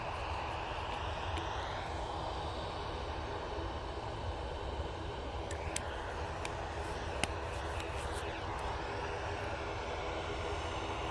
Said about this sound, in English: Erlingus about to come in from Dublin.